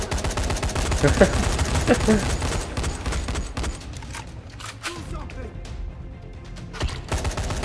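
Gunfire in the co-op video game Dying Light: bursts of rapid shots and single cracks, loudest early and then sparser, mixed with game effects while players talk over them.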